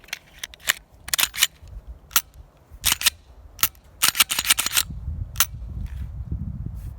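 Glock pistol shots at an outdoor shooting range, a run of sharp, loud cracks fired in irregular quick succession with a few pauses, each ringing briefly, and a low rumble building near the end.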